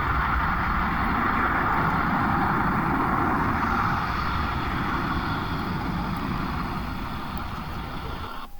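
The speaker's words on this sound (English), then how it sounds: "it was jam-packed with aeroplanes flying over and taking off and landing" A plane roars overhead, a loud broad engine rumble that is steady at first and then slowly fades as it passes.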